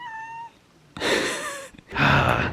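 A cat meows twice indoors, close and fairly loud, two drawn-out cries separated by a brief pause, following a quiet moment with a faint tonal hum.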